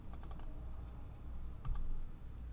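Keys tapped to enter a calculation on a calculator or keyboard, a few quick soft clicks early on and a couple more later, faint and close with no talk.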